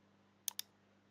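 Two quick, crisp computer mouse clicks come close together while working in SketchUp, sharp and close in an otherwise quiet room with a faint electrical hum.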